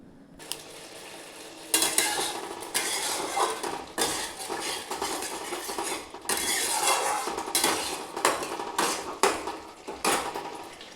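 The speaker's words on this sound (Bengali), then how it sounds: "এবারে খুব সুন্দর করে মশলাটাকে বেশ কষিয়ে ভাজবো" Turmeric and garam masala spices frying in a pan for potato curry, stirred with a metal spoon that scrapes and clinks repeatedly over a continuous sizzle.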